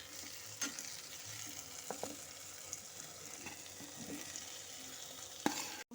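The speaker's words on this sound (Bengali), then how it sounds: "সমস্ত মশলার সাথে আলু ফুলকপিগুলোকে মিশিয়ে নেব।" Fried potatoes and cauliflower are stirred into cooked masala in a pan for a vegetarian cauliflower muri ghonto, with scattered soft scrapes and knocks over a low, steady sizzle, close by and fairly quiet.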